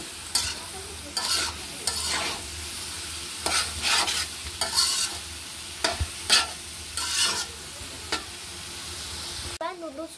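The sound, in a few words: vegetables stir-fried with egg for noodles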